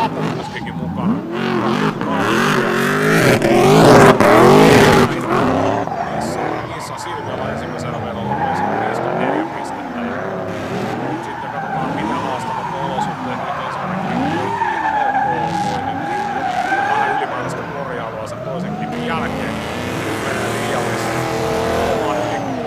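Drift cars slide around a half-wet track at a drift competition in Hyvinkää, engines revving and tires skidding loudly and continuously, with a commentator talking over the action.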